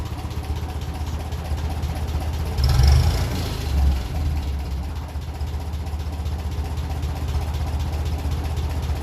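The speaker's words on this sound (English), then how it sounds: "About 500 revs seems to be the sweet spot on these engines." A 1957 Ferguson 35 tractor running on TVO idles at about 500 revs with an even low chug. A brief louder swell breaks the steady idle about a third of the way in.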